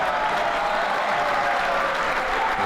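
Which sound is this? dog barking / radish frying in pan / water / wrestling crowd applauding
wrestling crowd applauding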